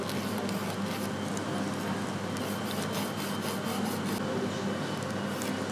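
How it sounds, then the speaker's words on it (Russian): A nail file rasping across a fingernail during a machine manicure correction, producing steady rapid back-and-forth scraping strokes, close and soft, with no talking. "под нее ставим пилочку и аккуратненько прочесываем"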